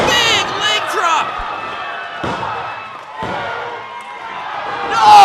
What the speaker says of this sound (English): Just slams him up. Big leg drop.